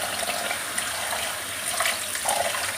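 Water, a litre of it, streams into a cooking pot for sweet Punjabi vermicelli, a steady splashing gush that runs unbroken and fairly close.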